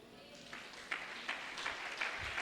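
A church congregation at a Christian revival service breaks into applause and cheers, a steady wash of clapping with a few sharper bursts, moderately loud and diffuse as in a large hall.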